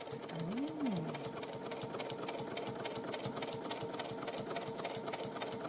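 A Baby Lock Crescendo sewing machine runs a straight stitch with a steady, rapid needle chatter and motor hum throughout, close and continuous.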